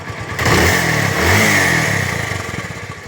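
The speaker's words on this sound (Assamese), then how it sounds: "গাড়ী সাউন্ড বহুত ধুনীয়া হৈ আছে" A 2022 pickup truck's engine revs up loud and close, swelling twice in steady bursts before settling back toward a rough idle.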